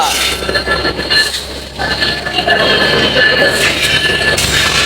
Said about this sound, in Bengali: আমাদের কাঙ্ক্ষিত কাঙ্ক্ষিত ট্রেন চলে আসলো